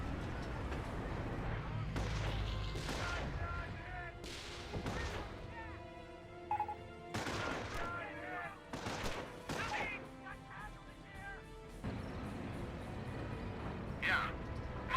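Mortar and artillery fire in Company of Heroes, a series of sharp booming blasts scattered irregularly across the scene, mixed with other battle sounds at moderate loudness.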